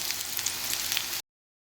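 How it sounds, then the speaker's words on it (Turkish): Eggplant slices frying in a pan with oil, a dense steady sizzle with crackling pops, close and continuous before cutting off abruptly. "Tuzlu sudan çıkardığım ve kuruladığım patlıcanlarımı şöyle bir tavanın içerisinde arkalı önlü kızartacağım."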